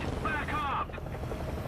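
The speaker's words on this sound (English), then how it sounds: "Is that a friendly helicopter?" A helicopter's rotor thrum drones steadily in the War Thunder game soundscape, with a brief rising tonal whine early on and people talking over it.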